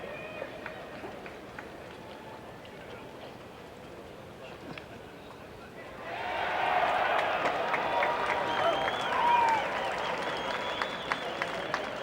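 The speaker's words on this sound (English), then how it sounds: "the noise you might hear was the cheering" A golf gallery at the 1992 Masters final round breaks into distant cheering and applause midway, a broad swell of clapping and crowd roar rising from a quiet outdoor background with faint talk before it.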